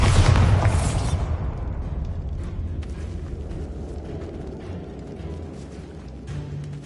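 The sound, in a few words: Bombarda spell explosion in the video game Hogwarts Legacy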